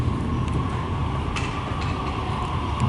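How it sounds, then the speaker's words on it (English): A Melbourne suburban train arriving at Pakenham station, a steady loud rumble of wheels and motors on rail with faint squeals and clanks throughout, no voices. "That train that I was waiting for is coming now"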